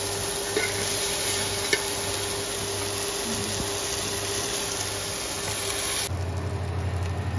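Oysters (kalva) fry in a pan with a steady, even sizzling hiss. A low hum runs under the sizzle, and the tone shifts slightly near the end.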